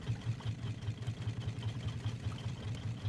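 Several boat engines on a drifting raft in the survival game Raft chug together in a steady, low, pulsing drone, moderately quiet and continuous with no voices.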